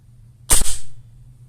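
A single sharp snapping shot from a Maruyama ISO556 airsoft rifle on semi-automatic, close and loud, then a short fading mechanical clatter in an otherwise quiet space.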